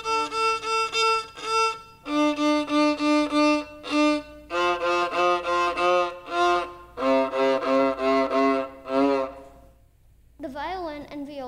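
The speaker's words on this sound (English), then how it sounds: "The open strings on the viola sound like this." Viola open strings bowed one after another, each sustained tone repeated in short bowed strokes, clear and close with no talking, ending in a brief wavering higher phrase.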